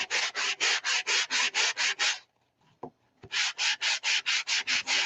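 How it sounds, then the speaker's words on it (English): A sanding block rubbing over embossed paper in quick, even back-and-forth strokes, about ten close scratchy passes, then a brief pause with a small knock, then another steady run of strokes. "if you had a sanding block that hadn't been used before, you could probably get this done really quick"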